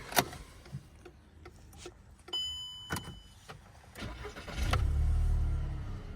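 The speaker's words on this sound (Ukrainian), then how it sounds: "Заводиться автомобіль з півоберту." A few mechanical clicks and ticks, then a Volkswagen Jetta's 1.6 MPI engine with automatic transmission and 150,000 km cranks and catches at once, settling into a steady low rumble at the end.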